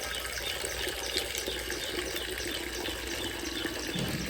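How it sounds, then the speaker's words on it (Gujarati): Water from a hose runs steadily into a pot being filled, a constant splashing hiss that holds at an even level from start to finish, with no talk. "આથી ભરતો છે નળીથી પાણી"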